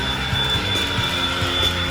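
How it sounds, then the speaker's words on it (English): Diesel locomotive on a Tri-Rail train running at speed, a loud continuous drone with a high steady turbo whine riding above the low engine rumble. "I like the sound of that diesel with that turbo whining"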